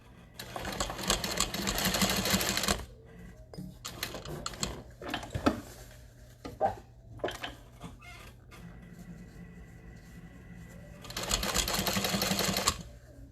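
A sewing machine stitches a tote bag in two long, steady bursts of rapid mechanical whirring, one at the start and one near the end. Quieter handling clicks and rustles fall between the bursts.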